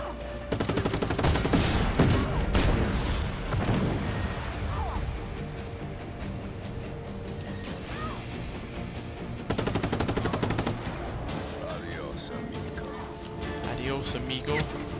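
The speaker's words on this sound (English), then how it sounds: "I love shooting those ammo boxes." Rapid gunfire aimed at exploding ammo boxes in the action game Just Cause 3, dense bursts of shots mixed with blasts, coming in waves over a busy background.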